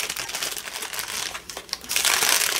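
Plastic packaging from a mail parcel crinkles and rustles close up, a dry crackling that dips briefly midway before turning louder and busier.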